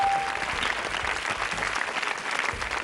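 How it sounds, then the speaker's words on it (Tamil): A studio audience on a Tamil kids' TV game show breaks into sustained clapping, a dense, even patter of many hands filling the room at a steady loud level from start to finish. "கைதட்டு"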